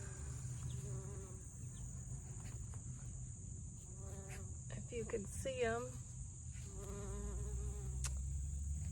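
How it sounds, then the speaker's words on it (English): Bumblebees buzz around a giant catmint plant in a garden, a steady low drone sitting under outdoor ambience while a person speaks briefly nearby. "There's a bumblebee down in here."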